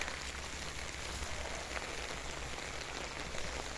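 Steady rain falls on a backyard vegetable garden planted with spring onions, corn, garlic and chayote, a continuous soft hiss of drops with no voices.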